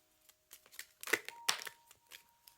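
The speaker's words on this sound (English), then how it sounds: "I'm going to go ahead and start shuffling our clarification cards." A deck of oracle clarification cards is shuffled by hand in a quiet room. A run of soft, crisp riffling bursts and taps is heard close up, faint overall, with no talking.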